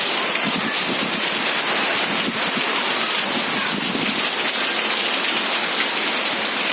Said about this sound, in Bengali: প্রচন্ড জোরে বৃষ্টি হচ্ছে, জোরে অনেক বৃষ্টি হচ্ছে।